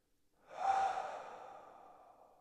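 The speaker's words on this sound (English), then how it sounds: "Big exhale through the mouth." A long exhale through the mouth during a slow yoga floor flow, a single breathy rush that swells quickly, then fades gradually, close and alone.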